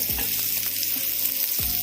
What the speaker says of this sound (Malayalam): അതിലേക്ക് ഒരു 1/4 ടീസ്പൂൺ കടുക് ഇട്ട് കൊടുക്കുന്നുണ്ട്. കടുക് പൊട്ടിയിട്ടുണ്ട്.